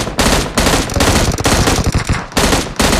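In the game PUBG, loud automatic gunfire rattles in sustained close bursts with brief breaks between them.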